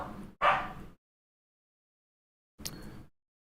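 Dogs bark twice, a pair of short sharp yelps close together, then quiet, then a single bark, fairly near and faint against silence.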